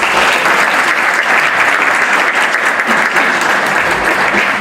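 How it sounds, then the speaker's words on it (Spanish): Loud, sustained applause rises from the audience at a recognition ceremony on Mexican municipal institutions, with dense, even clapping filling the room throughout. "Un aplauso,"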